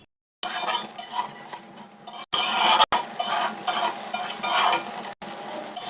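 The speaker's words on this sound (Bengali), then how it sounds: "এরপরেতেই দিতে থাকবো খুন্তির নাড়া" A spatula stirs ground turmeric, coriander and cumin in a pan while cooking an eggplant, fish and pumpkin-bori curry, making close scraping and clinking against the metal with a faint sizzle, broken by a few brief pauses and no talk.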